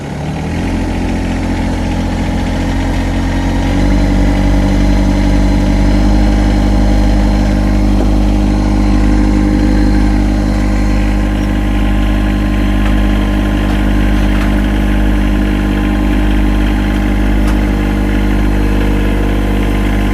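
Yanmar SA324 tractor diesel engine under heavy load while lifting large logs, a loud, steady low drone that deepens and strains after a few seconds and holds for the rest of the stretch, close up with no talking.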